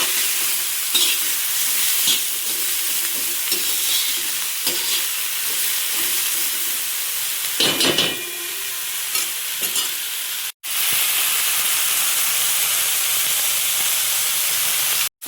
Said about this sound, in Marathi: आता हे दोन्ही पण एकदम चांगलं भाजून घ्यायचं